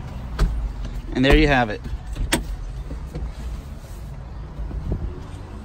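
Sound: 2008 Toyota Solara convertible power roof opening

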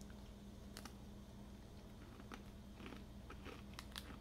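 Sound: biting into a crunchy butter cookie snack

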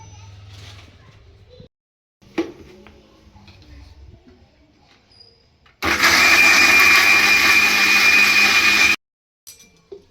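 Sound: mixer grinder blending a sweet mixture

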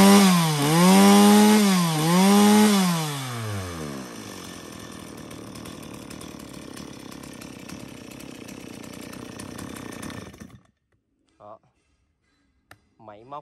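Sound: STIHL 024 chainsaw engine running

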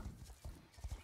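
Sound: mouth click imitation used to urge a horse on

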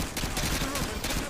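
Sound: gunfire from video game Call of Duty Modern Warfare 2

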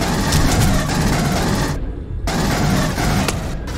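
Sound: assault rifle firing in a video game

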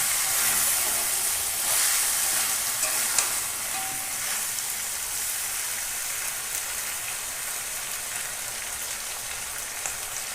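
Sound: chicken meat sautéing in oil in a pan

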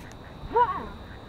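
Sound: ducks quacking

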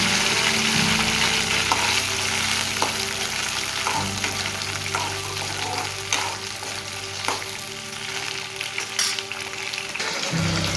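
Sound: okra (ladies finger) frying in oil

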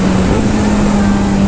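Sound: Kawasaki Z900 motorcycle accelerating

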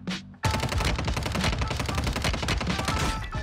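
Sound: Kar98k rifle gunfire in video game Warzone Mobile

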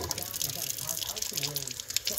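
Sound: water rinsing a guinea pig during a bath

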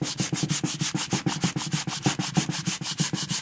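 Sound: hand sanding wood with the grain

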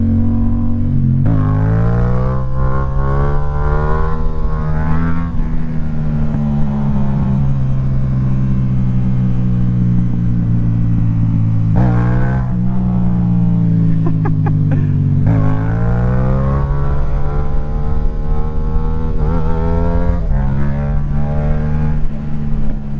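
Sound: Yamaha MT-07 motorcycle riding, shifting gears

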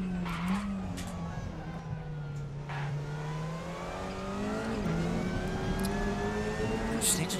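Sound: race car tires skidding under locked brakes in RaceRoom racing game

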